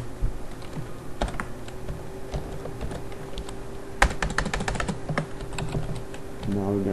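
Fingers typing on a computer keyboard, irregular clicks and quick bursts of keystrokes near the mic, with a steady hum beneath and brief talk in places.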